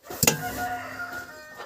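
Chicken in a backyard poultry yard giving a single brief, close squawking call that trails off into a faint cluck.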